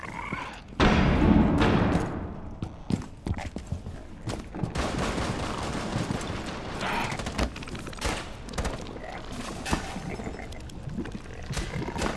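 Gunfire in Rainbow Six Siege on the Containment map, with dense, overlapping shots and thuds going on without a break, loud and chaotic, mixed with scattered impacts and game ambience.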